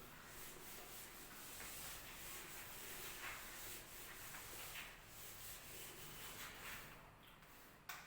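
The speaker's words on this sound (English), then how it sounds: "So I'll just rub the board here." A classroom board being wiped clean, a steady broad scrubbing rub that carries on without a break for about eight seconds, fairly quiet and close, with no voice over it.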